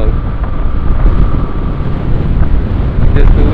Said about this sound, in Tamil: காற்று என்ன ஒரு பக்கம் தள்ளுது